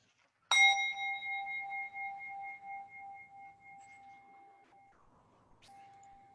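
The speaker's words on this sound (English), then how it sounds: "at the sound of the bell" A single bright bell is struck once and rings out clearly, its pure tone slowly fading over several seconds in an otherwise quiet room.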